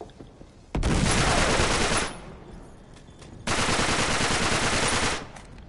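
Gunfire in Uncharted 3 while fighting pirates, two long, dense bursts of rapid automatic fire, loud and close, separated by a short lull, with no talk.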